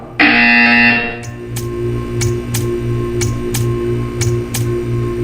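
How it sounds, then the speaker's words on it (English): Portal 2 art-room buzzer: a sustained electronic tone, then a hum pulsing repeatedly beneath sharp ticks that recur roughly every half second, loud and with no voices. "You will hear a buzzer."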